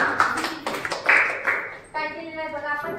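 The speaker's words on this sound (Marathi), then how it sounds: "चला टाळ्या वाजवून" Children clap their hands together in a classroom during a collaboration activity lesson, a burst of sharp overlapping claps for about two seconds that then gives way to a voice.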